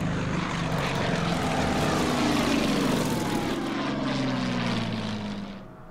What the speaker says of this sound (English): The bombers will hit the tank again.